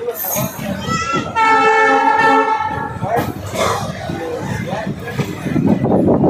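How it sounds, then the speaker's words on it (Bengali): A passenger train pulls out of Belakoba station toward Jalpaiguri Road, its loud horn sounding a long blast over rumbling wheels and carriage noise while a person talks nearby. "আমাদের ট্রেন স্টেশন লাইন ছেড়ে এখন মেন লাইনে গতির দিকে যাচ্ছে"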